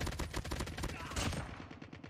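Video game gunfire on the Alcatraz map rattles in rapid, continuous automatic bursts, dense and close, then thins out toward the end.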